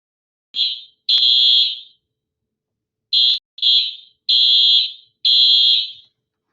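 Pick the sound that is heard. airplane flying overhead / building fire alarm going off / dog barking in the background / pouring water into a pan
building fire alarm going off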